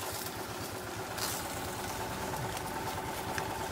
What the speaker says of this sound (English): And riding the cart here.